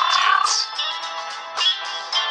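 A hungry cat in a children's educational cartoon game meows in a few short, clear, high cries over roughly two seconds, with no talking.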